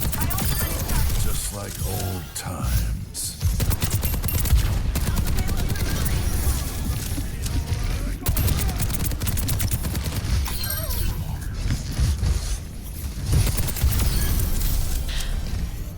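Soldier 76's rifle firing in the video game Overwatch, as a dense and nearly constant stream of shots. It is tangled with busy match noise and impacts, and faint voices may be mixed in.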